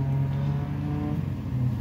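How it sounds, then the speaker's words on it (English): A Honda car racing off nearby, a short burst of revving engine drone heard from a moving CRX, steady and fairly loud throughout the brief moment. "That is another Honda racing off."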